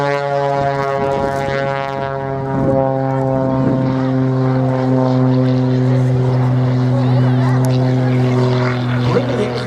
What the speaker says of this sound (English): the Muscle biplane getting airborne immediately, showing us not just the effectiveness of that smoke system